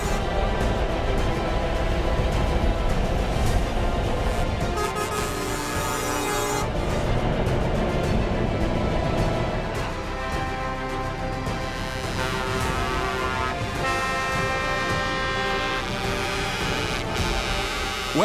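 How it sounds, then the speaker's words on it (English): A convoy of trucks rolls around the Gowran Park track during a festival of speed, giving a dense, continuous drone of engines with tonal horn-like hums and shifting layers, fairly close throughout. "the truck convoy, which gets bigger year on year, is a popular part of the festival"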